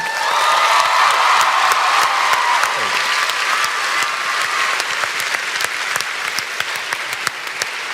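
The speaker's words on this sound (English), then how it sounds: "Give it one more round of applause, please" Another round of applause from an audience, sustained clapping with a few whoops and cheers early on, gradually thinning into scattered individual claps, while a voice speaks briefly near the start.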